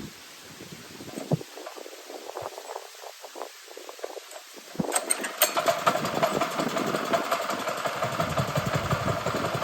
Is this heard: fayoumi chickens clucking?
no